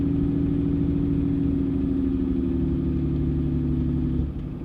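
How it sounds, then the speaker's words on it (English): Exhaust brake on a Cummins diesel truck fitted with a cold air intake, a loud steady low drone that holds for about four seconds before dropping off near the end. "So here's my exhaust brake."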